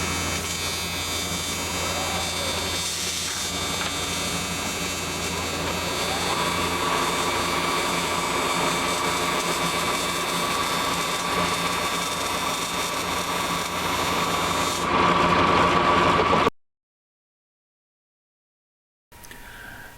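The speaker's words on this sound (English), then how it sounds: "making all kinds of racket with grinders and welders and everything else, doing another project" Workshop racket from grinders and welders running in the background, a steady dense whirring and buzzing noise with tonal whine that holds for about fifteen seconds before cutting out abruptly into silence.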